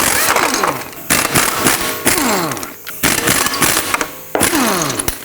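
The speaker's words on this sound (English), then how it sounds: "Let's remove the wheel, 19mm socket, remove all 5 of your lug nuts." Impact wrench bursts spinning off the five lug nuts of a 2007-2010 Chrysler Sebring's wheel with a 19mm socket, several loud rattling whirrs that wind down one after another, close up, separated by short pauses.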